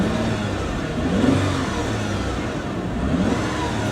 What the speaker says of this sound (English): Let's rev it up a little.